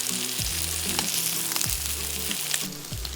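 Lamb chops sizzle in a hot pan, a steady frying crackle up close with rhythmic low thumps pulsing roughly twice a second underneath.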